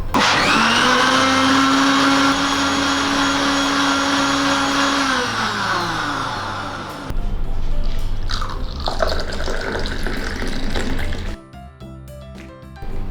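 A kitchen blender runs loud and close for about seven seconds, mixing curd, ice and water into jeera buttermilk, then winds down, followed by liquid sloshing and clinking as the jar is handled.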